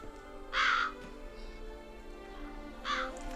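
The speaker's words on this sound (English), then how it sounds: "There's a lot of crows or ravens hanging out there." Crows or ravens in The Witcher 3 video game give two harsh caws a couple of seconds apart, moderately loud over a soft steady ambient drone, with no talk.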